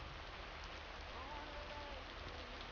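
Steady rain falling outdoors in Terrantejo, a continuous soft hiss that is fairly faint and even throughout, with no talking heard.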